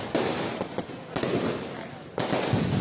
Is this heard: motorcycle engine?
no